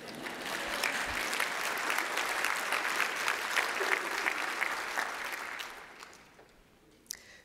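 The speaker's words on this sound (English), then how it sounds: "And this is the part where you're supposed to clap." Warm audience applause at a rural healthcare leadership conference, sustained clapping from a large room that holds steady for several seconds and then dies away, ending with a single sharp knock.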